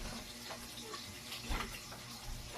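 Vegetables are rinsed under running tap water in a home kitchen, a soft steady splashing with small surges, quiet and close.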